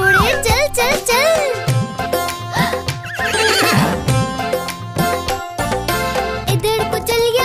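A horse whinnies repeatedly and hooves clip-clop in a lively children's cartoon song, the neighs and hoofbeats mixed into bright music and sung vocals.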